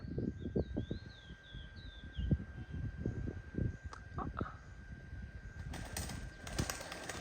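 Pigeons beat their wings in a quick series of soft, flapping bursts, fairly faint and nearby, with a few light chirps and no talking.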